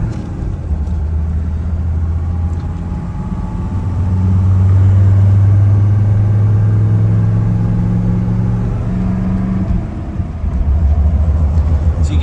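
A Mercedes W123 300TD diesel driving with a drive shaft vibration: a steady low engine rumble and droning hum that swells in the middle, heard from inside the car with no talking.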